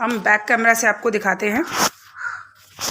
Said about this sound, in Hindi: ये देखिए कौवा बैठकर बोल रहा है।